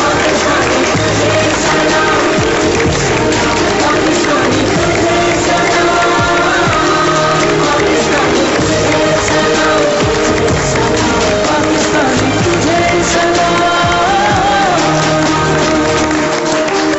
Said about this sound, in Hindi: अगर हम खड़े होकर अभी इस वक्त मोइन अख्तर साहब के लिए तालियां बजाएं।